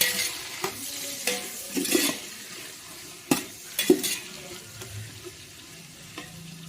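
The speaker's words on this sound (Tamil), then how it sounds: "வெங்காயம் நல்லா கோல்டன் ப்ரௌன் ஆகும். அந்த ஸ்டேஜ் வரையும் நல்லா வதக்கிங்க." Sliced onions sautéing in a pan for mutton biryani, a low frying hiss punctuated by a handful of sharp spatula scrapes and clinks against the metal, close and fairly quiet.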